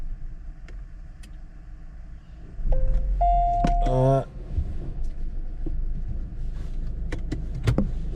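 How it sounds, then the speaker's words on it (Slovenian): A car's starter motor cranks briefly and the engine catches, then settles into a steady idle inside the vehicle, with small clicks and rustles around it, on a road trip through Montenegro. "žigam avto"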